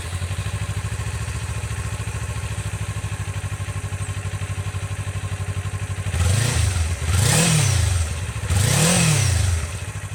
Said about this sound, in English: here is the stock exhaust